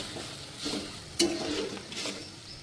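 Spice masala fries in a pan for a Bengali rui fish curry with potatoes, dried chilli and ginger, making a moderate sizzle with a few stirring scrapes and one sharp utensil clink, without any talking.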